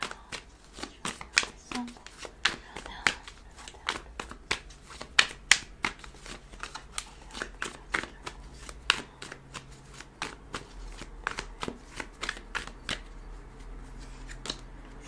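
Tarot cards shuffled by hand, a rapid series of crisp riffling snaps and soft slaps in irregular bursts, close and clear for the whole stretch.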